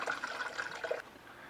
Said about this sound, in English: So now I'll take the drippings and I'll pour them through a fat separator